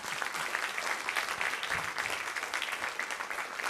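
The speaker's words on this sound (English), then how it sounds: "let's clap it up for where we are right now" An audience at the Kennedy Center's Millennium Stage claps in sustained, even applause, a dense wash of hand claps filling the room without pause and without talking.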